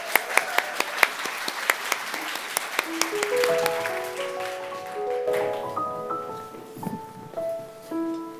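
A church youth-group audience claps, loud and sharp at first and then fading. Sustained musical tones rise and layer in as the clapping thins out, with some speech mixed in.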